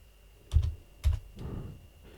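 A few distinct keystrokes on a computer keyboard, close and clear, with two firm taps followed by a softer clatter, while setting up an Ubuntu 24.04 server over SSH.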